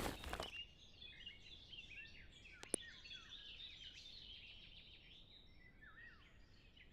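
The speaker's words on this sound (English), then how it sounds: "Yeah, you can hear those birds." Outdoor birds sing faintly through closed third-floor apartment windows, soft chirps and trills drifting in the distance over a quiet room, with a brief click early on.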